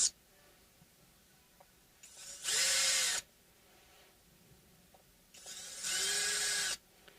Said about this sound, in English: Be careful with power tools.